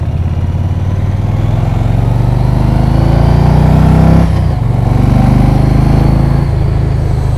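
A 2018 Yamaha Venture touring motorcycle's V-twin engine runs loud and close during a demo ride, a steady throbbing drone with rising revs, a brief dip near the middle, then steady again, with no voices.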